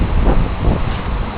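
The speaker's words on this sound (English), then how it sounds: "you can also hear the wind sound of a tornado" Strong, gusty wind roars steadily and close during a big windstorm with a possible tornado in Camrose, buffeting the microphone with a dense, unbroken rush.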